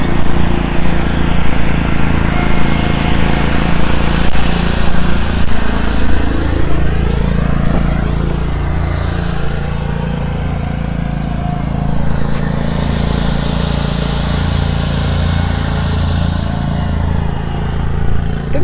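Lawn mowers cutting grass nearby outside, a loud continuous engine drone with a steady low hum and shifting pitch throughout, no talking.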